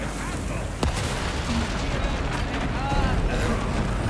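A grenade blast in the Resident Evil 4 video game lands as one sharp burst, followed by a dense, rumbling wash of gameplay noise with a player talking over it.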